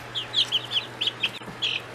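A chicken in a cage clucks in a quick series of short, bright calls that come in irregular bursts over a low steady hum, close by and with no talking.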